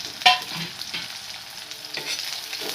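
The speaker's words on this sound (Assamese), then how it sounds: "অলপমান ৰঙা হোৱাকৈ অলপমান ভাজি ল'ম" Dry red chillies and whole spices such as cinnamon and cardamom fry in oil in a pan over a low flame, giving a soft continuous sizzle with light stirring scrapes and one sharper crackle near the start, close and without talk.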